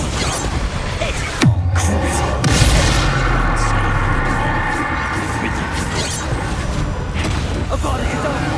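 Confringo explosive spell blasts in Hogwarts Legacy, a loud booming impact followed by crashing and rumbling combat noise, with further thuds mixed in under a continuous busy battle background.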